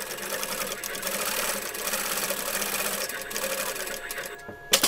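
A sewing machine stitches the side seam of a Santa Claus coat in a steady, fast mechanical whir with rapid needle clatter close up, stopping abruptly with a couple of clunks at the end.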